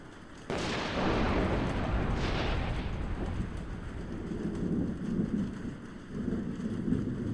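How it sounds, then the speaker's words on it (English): A sudden heavy crack of thunder breaks into steady rainfall, then rolls and rumbles low while the rain keeps pouring, loud and close, with no one speaking. "This rain will be good for the crops."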